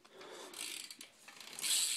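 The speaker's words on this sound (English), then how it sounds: "Oh, and a hub sound." A bicycle rear hub freewheel on a 2012 Verde Theory bike gives fast, fairly quiet ratcheting clicks in a continuous run that swells and dips, close by with no talking.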